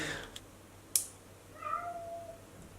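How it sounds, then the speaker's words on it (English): A cat gives one short, fairly faint meow in a quiet workshop where a motorcycle is being built, with a small tap just before it. "Kitty cat."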